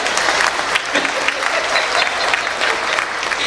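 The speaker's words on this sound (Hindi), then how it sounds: "एक बार जरा जोरदार तालियां बजाइए।" Loud, sustained clapping from a comedy show audience, dense and steady with a few sharper peaks, with no talk over it.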